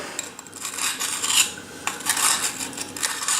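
A knife edge is deliberately dulled by scraping it against a hard surface, giving gritty, metallic rasping strokes in uneven bursts, close and fairly loud, with no voices.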